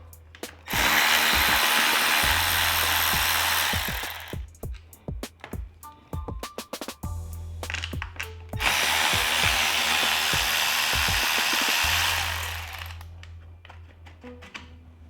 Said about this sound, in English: grab our 10mm socket on our handy dandy Milwaukee ratchet and get these guys out of here